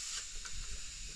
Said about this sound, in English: So the steam valve now is properly adjusted. It opens at the right position.